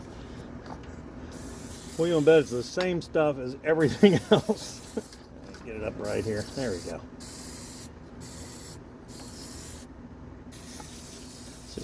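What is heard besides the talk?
spraying lubricant from aerosol can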